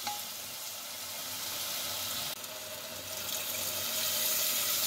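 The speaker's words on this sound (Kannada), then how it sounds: "ಸ್ವಲ್ಪ ನೀರು ಹಾಕು." Water is poured into a pan of cooking chicken as a steady, continuous rush, like a tap running close by, with a brief dip midway and no talk over it.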